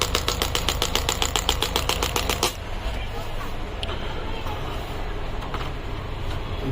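A pneumatic shockwave therapy machine's internal compressor runs with a loud, rapid mechanical pulsing for a few seconds, then settles into a steadier rumbling drone.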